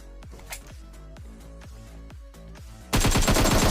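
Gunfire in PUBG during a solo-versus-squad match: about a dozen evenly spaced, punchy shots ring out close by, then a sudden, much louder, dense burst of rapid fire at the end.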